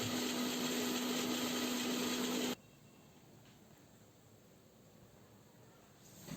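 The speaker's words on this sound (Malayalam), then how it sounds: "ഇവ രണ്ടും ചേർത്ത് വീണ്ടും ഒന്ന് അരച്ചെടുക്കുക" A mixer grinder whirs loudly grinding turmeric powder with mustard seeds in a steady high motor roar for a few seconds, then cuts off abruptly to quiet, with a faint bump at the end.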